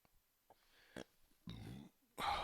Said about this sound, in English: I just burped into the mic again.